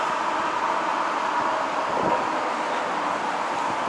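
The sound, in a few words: wind blowing outdoors in Busan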